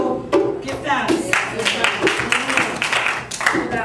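An audience at a talk claps in a loose, uneven patter of hand claps, moderately loud and close, with a voice sounding over part of the clapping.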